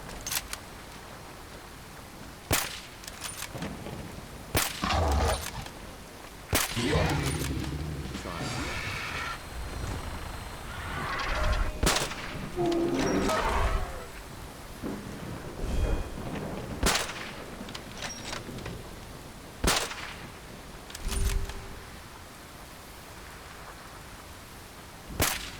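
In Fallout 4, a thunderstorm rolls over with steady rain and repeated sharp, loud thunder cracks spaced across the scene, with brief low sounds in between.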